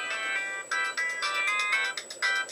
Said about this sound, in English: Oh, freaking phone calls.